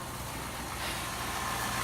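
A high-mileage Chevrolet S10 truck engine with over 400,000 km idles quietly, a steady low hum running throughout with no talking.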